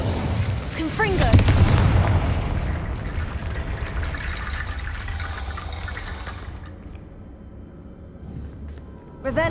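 A Confringo spell blast in a Hogwarts video game erupts as a loud, booming burst with a rumbling low roar that swells over the first couple of seconds, then decays into a long, fading hiss.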